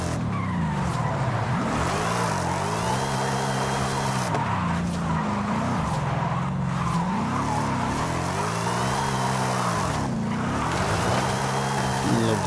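Car engine in the Forza Horizon 5 racing game roars steadily while tires squeal through long drifts, the pitch rising and falling with repeated throttle swells, loud and continuous throughout.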